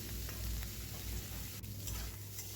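Cauliflower and potatoes mixed with salt and turmeric fry in a pan with a quiet, steady sizzle and occasional soft stirring scrapes.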